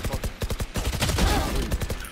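Valorant gunfire in a video game: a fast rattle of evenly spaced shots opening the clip, then a dense burst of overlapping fire, loud and close throughout.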